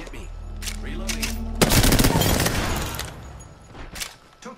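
Gunfire in the battle royale shooter Apex Legends, with a dense volley of rapid automatic shots that bursts in suddenly and then thins out into scattered cracks, loud and close.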